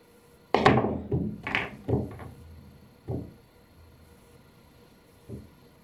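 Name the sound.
billiard cue striking cue ball, balls colliding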